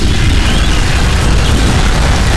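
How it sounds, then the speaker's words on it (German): Loud, dense explosions fill the whole stretch in the sci-fi shooter Alien Swarm, a continuous roaring barrage of booms and bursts with no pauses. "Es explodiert alles am Arsch"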